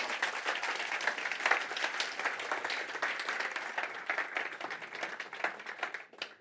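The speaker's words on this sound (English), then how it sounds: "A big applause, please." A conference audience claps in appreciation after a keynote contribution, distinct individual claps forming a lively, fairly close round of applause that thins out at the finish.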